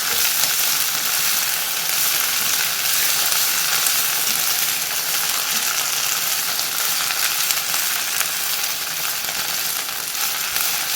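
Fresh fenugreek leaves fry in a pan while being stirred to wilt, giving a constant, close, loud sizzle with a soft scraping texture and no voices.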